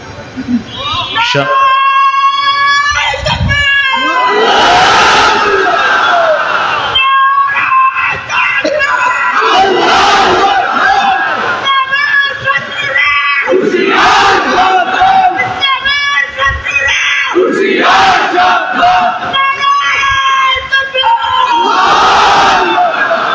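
A large crowd at a religious sermon chants a slogan in loud, repeated bursts of shouted unison, alternating with a lead voice calling out between rounds.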